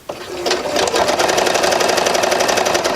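A sewing machine running a narrow zigzag stitch on sweater fabric, starting up and then whirring in a fast, even mechanical rhythm, loud and close.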